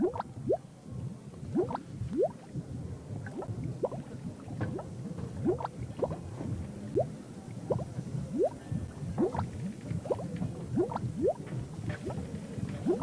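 A pot boiling in a kitchen in The Secret of Monkey Island, a steady run of soft bubbling pops and gurgles repeating irregularly at low volume, with no talk.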